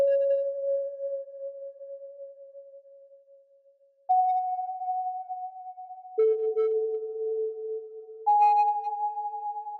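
A smooth, pure-toned synth lead plays slow sustained notes, stepping between a few pitches, soft and alone with no voices.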